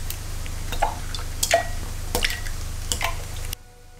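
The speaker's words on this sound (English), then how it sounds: "Crack 6 eggs into a high-sided mixing bowl." Six eggs cracked one after another into a high-sided mixing bowl, giving several brief, close wet cracks and soft drips spaced about a second apart, with no talking.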